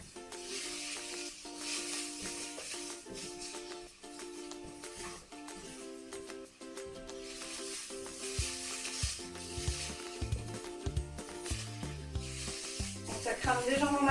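Garlic and shallot frying in a saucepan over the heat, starting to brown and catch slightly: a continuous crackling sizzle that holds steady, then swells louder and busier toward the end.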